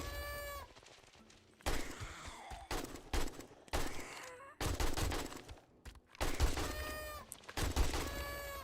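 AK rifle gunfire in the zombie survival video game 7 Days to Die, loud bursts of automatic fire broken by short pauses, with game sounds and brief voices between the volleys.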